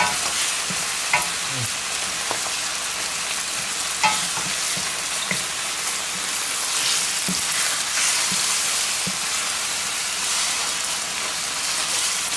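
An egg fries in a hot pan for chicken fried rice, giving a steady, loud hiss with scattered pops and scraping stirs throughout, and no voices.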